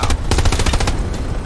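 Rapid .30 cal machine gun bursts in the Hell Let Loose World War II shooter, loud and close, a dense rattling stream of shots running about a second before thinning out.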